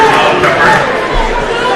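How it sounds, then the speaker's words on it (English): A packed crowd in a basketball arena makes loud, continuous chatter with a dense roar of many overlapping voices. "you can tell from watching how full of a crowd it is here"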